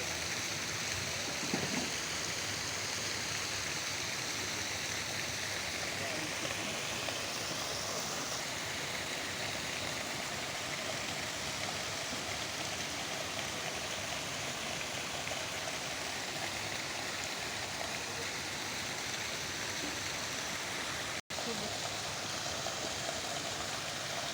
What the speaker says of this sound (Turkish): Burada anda su akıyor, yerden geliyor.